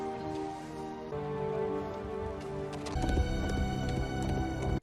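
Horse hooves clop in a scene from The Rings of Power, set under sustained tonal score. The footfalls grow busier and louder toward the end.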